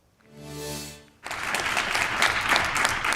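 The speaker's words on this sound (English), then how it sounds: "Applause filled the room after a unanimous vote to increase Oldham County teachers' salaries." A meeting room at an Oldham County school board session bursts into applause after a unanimous vote to raise teacher salaries. A brief sustained tone opens the clip, then many hands clap in a loud, dense, continuous wash to the end.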